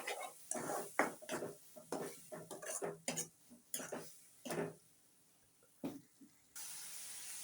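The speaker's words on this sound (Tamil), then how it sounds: "அந்த பேஸ்ட்டை வந்து இப்போ நம்ம இதில் ஆட் பண்ணி வதக்க போகிறோம்" A ground paste of tomato, green chili and coriander sautéed in a pan for spicy pasta, with a quiet sizzling hiss and repeated clinks and scrapes of a spoon stirring against the metal, ending in a steady soft hiss.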